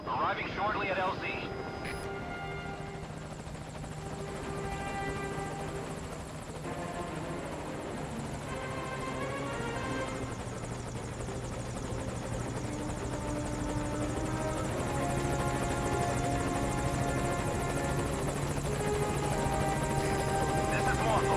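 Morpho helicopter in Metal Gear Solid V: Ground Zeroes approaching a landing zone, a steady loud rotor drone with harmonic engine whine building throughout, with a voice speaking over it.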